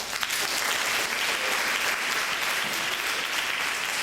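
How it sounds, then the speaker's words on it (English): An audience at an event at a Bronx elementary school, PS 5 in Port Morris, gives a steady round of applause, dense even clapping sustained throughout without pause. "let's give Ms. Taurus a round of applause"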